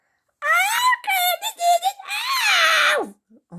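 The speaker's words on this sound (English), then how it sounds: "Screaming children are not allowed here." Children screaming indoors in a house, high piercing wails and squeals that rise and fall in several bursts, loud and close, ending with a short pause.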